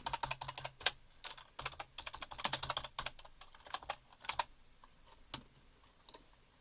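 Close, rapid bursts of keystrokes on a computer keyboard during a drafting lesson, crisp clicks in uneven runs with brief pauses, gradually thinning out toward the end.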